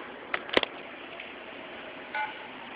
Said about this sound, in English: Definitely dialed a different extension than the previous one.